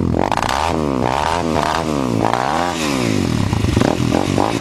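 A Cross Fire off-road dirt bike engine runs loud and close, its pitch swinging up and down through several rapid revs without pause.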